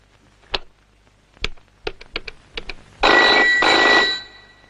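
A telephone rings twice in long, loud electronic bursts, after several sharp clicks or taps with no talking.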